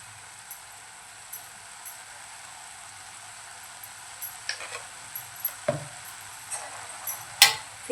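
Radish bhaji being stirred in a pan, with soft scraping and light sizzling at close range and a few sharper clicks of a spoon toward the end.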